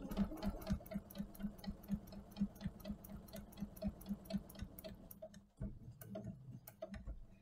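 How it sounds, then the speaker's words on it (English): A sewing machine stitches a quilt in a steady, fast rhythmic ticking run of needle strokes, close and fairly quiet, pausing briefly near the end before resuming. "I'm going to go ahead and finish stitching this out"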